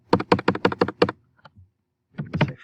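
Six crisp keystroke bursts in a steady run on a computer keyboard while code is typed, a short pause with a couple of faint taps, then two or three more clustered strokes, close and clear with no talk.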